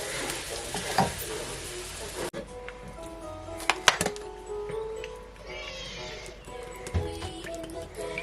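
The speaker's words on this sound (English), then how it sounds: "I don't need to fry it so much, you know, that it can dry or get burnt" Fish frying in plenty of oil in a pan for a Nigerian fish stew: a close, crackling sizzle with clattering stirring knocks, then quieter bubbling after an abrupt drop.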